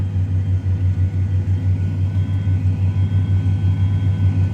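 A tractor pulling a tillage implement across a field, heard from inside the cab as a steady low engine drone and rumble with a constant hum, loud and continuous throughout.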